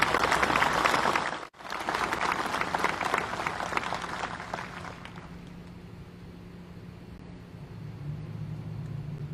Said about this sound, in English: give one more round of applause for the class of 2020